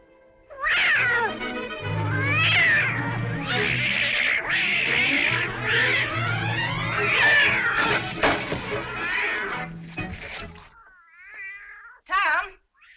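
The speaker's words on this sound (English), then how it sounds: "What on earth ails that cat?" A house cat yowls and meows loudly and close by in a long string of drawn-out, rising and falling cries, ending with a short final yowl after a brief pause.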